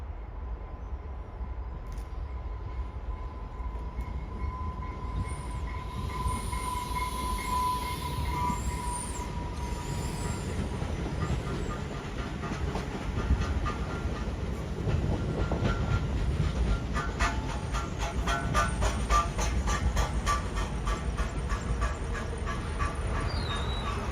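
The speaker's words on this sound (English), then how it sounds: "Now these Talgo 8s, there's 13 cars on this train" Amtrak Talgo 8 passenger train of thirteen cars, the Mount Bachelor set, arriving at Tukwila station: a steady rumble of cars rolling past with rhythmic wheel clatter, a faint squeal early on, moderately loud and continuous, with no talking.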